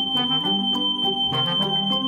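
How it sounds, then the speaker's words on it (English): A smart video doorbell's alarm sounds as a loud, piercing, unbroken high tone, held steadily over a busy rhythmic backing. "it also has a super loud alarm"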